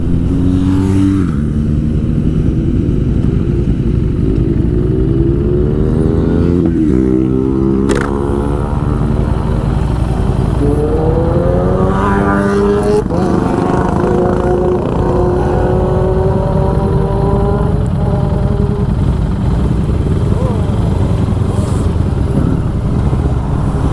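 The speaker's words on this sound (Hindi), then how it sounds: "मोटरसाइकिल चलाइए" A motorcycle engine drones while riding on the road, loud and close, rising and falling through repeated gear changes over steady wind rush, with no talk.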